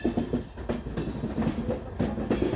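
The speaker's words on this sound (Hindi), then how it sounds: "और इधर से भी कोई मेमू ट्रेन जो है" A MEMU train rolls close by with a continuous heavy rumble and rhythmic clickety-clack of wheels over rail joints, steady and loud throughout.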